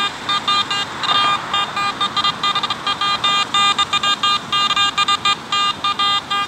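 An AT Gold metal detector in all-metal mode gives steady, rapid high-pitched electronic tones, chirping and buzzing almost continuously as the coil sweeps over many targets, loud and close with no talking.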